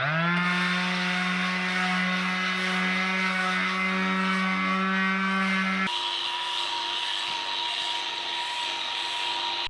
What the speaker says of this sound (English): So let's try this sander first.